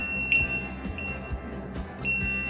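An Arduino sensor wired as input to an Omron CP1E PLC trainer triggers a buzzer, giving a shrill electronic tone with sharp beep accents near the start and again toward the end over a humming background.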